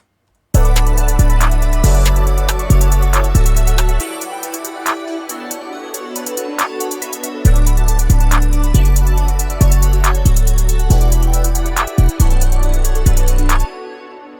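A pluggnb beat verse and transition built in FL Studio pounds with heavy repeating 808 bass hits and steady crisp hi-hats, dropping to a sparse break midway before the full groove returns.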